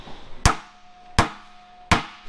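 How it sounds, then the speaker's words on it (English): Three loud, evenly spaced hammer blows strike a freshly welded metal seam during an offroad bread van build, each hit ringing briefly with a metallic tone before fading. "We welded it, I'm gonna hammer it out."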